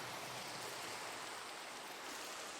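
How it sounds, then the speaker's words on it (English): Steady rain falls in a Minecraft world, a continuous broadband hiss with no distinct drops or voices. "Of course it's raining."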